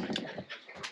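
A dog whimpers softly in a forest campsite, a few faint, short whining cries that come close together.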